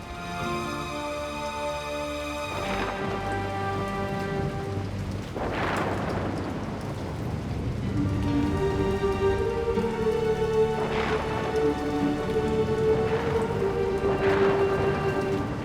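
Steady cartoon rain with thunder in an animated kids' show, a continuous hiss throughout with loud rumbling thunderclaps swelling near the middle and again toward the end, backed by music and no talk.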